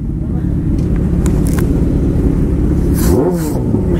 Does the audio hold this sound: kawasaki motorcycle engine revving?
yes